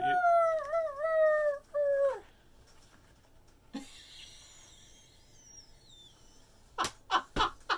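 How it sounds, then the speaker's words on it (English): A dog yelping sound effect: wavering, high-pitched whining cries at the start, then a quieter stretch, and finally a few sharp, loud yelps in quick succession. "What was that sound effect? Did you step on a dog's paw?"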